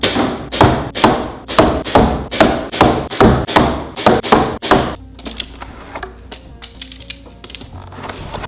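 Arrows strike a foam archery target in a steady run of about ten loud, close thuds roughly half a second apart, followed by quieter, scattered knocks and rustling.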